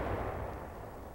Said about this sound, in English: a lonely howitzer somewhere in Korea lobbing out a few rounds to take care of an enemy outpost